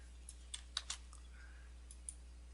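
Faint, sparse keystrokes on a computer keyboard, a handful of separate clicks spread irregularly over a quiet background with a low steady hum.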